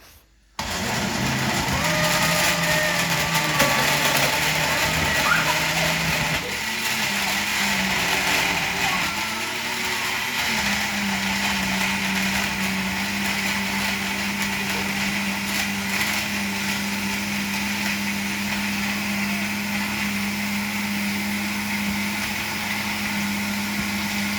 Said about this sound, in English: Now the blender is mixing all the fruit together.